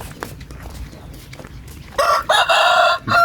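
Chickens scratch and cluck quietly at first, then a rooster lets out a loud, close crow lasting about a second, followed by a brief second burst.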